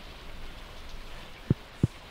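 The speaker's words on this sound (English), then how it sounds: "When it rains, it's great." Rain falling in the video game Stardew Valley, a soft, steady hiss of rainfall punctuated by three brief, low thumps toward the end.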